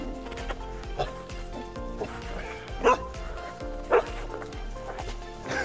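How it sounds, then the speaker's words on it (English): A puppy barks and yips outdoors in the snow, several short, separate barks spread across the stretch, moderately close, over a quiet background with faint music. "We're giving the puppy some outside time."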